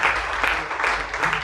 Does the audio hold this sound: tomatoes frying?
no